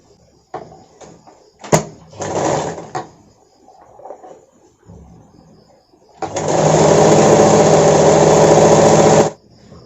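A sewing machine runs in short bursts and then one long steady run, stitching along the edge of a katori cut blouse, close and loud with handling clatter between runs.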